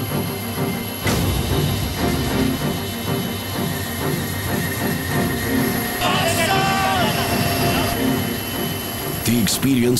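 A military helicopter drones steadily with a continuous loud rotor and engine roar throughout, a brief whine rising partway through, no voices over it.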